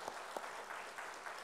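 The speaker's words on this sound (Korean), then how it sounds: "우리 권사님 오늘 나오셨으니까 우리 박수로 환영해 주시죠" A church congregation claps during a Sunday service to welcome a deaconess, a brief, soft patter of scattered clapping with a few louder claps near the start.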